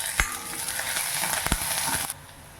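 Finely chopped onion, torn dried red chillies and curry leaves hit hot oil in a pan, a close crackling sizzle with a few sharp spatula knocks before it drops off abruptly.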